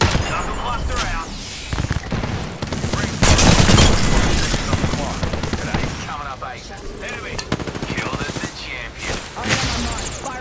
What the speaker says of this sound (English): Launching the knuckle cluster.